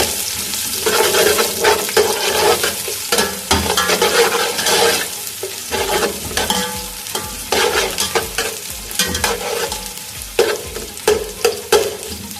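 Sliced onions fry in hot oil as a base for beef pulao, a loud close sizzle broken by repeated stirring scrapes and clanks of a utensil against the pot.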